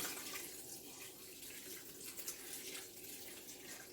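Water from a tap running and pouring over foraged elderberries in a pot, a very quiet, steady hissing splash that lasts throughout with no voices.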